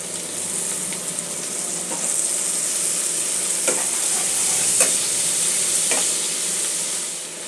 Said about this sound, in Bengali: মশলাটা 2-1 মিনিট একটু কষিয়ে নেব।